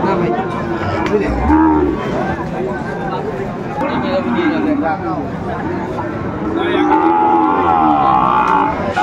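Sahiwal bull calves and cattle at a busy livestock market low, close moos rising out of steady crowd chatter, with several people talking nearby throughout.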